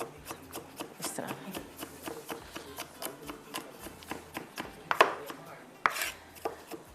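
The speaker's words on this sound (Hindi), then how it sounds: "गार्लिक को चॉप कर लीजिएगा।" A knife chops fresh garlic on a cutting board in quick, steady strokes, a run of close, crisp knocks with a couple of louder scraping hits near the end.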